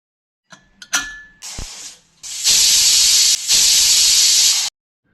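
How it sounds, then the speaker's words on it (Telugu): A pressure cooker of soaked chana dal lets out a loud, steady, close hiss of escaping steam for about two seconds, briefly interrupted, after a few sharp clicks and rattles. "గంట తర్వాత శుభ్రం చేసి కొంచెం వాటర్ యాడ్ చేసి ప్రెషర్ కుక్కర్లో 3 విజిల్స్ వచ్చేదాకా ఉండనివ్వాలి."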